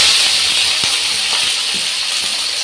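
Chopped onions and tomatoes land in hot oil with cumin and curry leaves for an egg curry, giving a loud, continuous close-up sizzling hiss that holds steady throughout.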